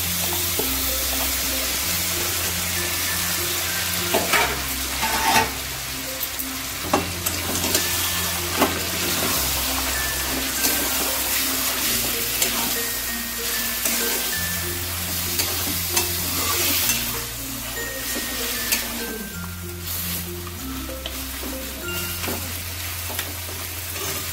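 Chicken fries in spice paste with a loud, continuous sizzle that fills the whole stretch, and repeated stirring knocks and scrapes keep surfacing over it.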